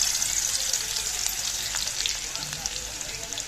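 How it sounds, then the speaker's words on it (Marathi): Garlic fries in hot oil in a pan with a steady, close sizzle and crackle, and faint stirring now and then. "तेल टाकलं, लसूण टाकून घेतला."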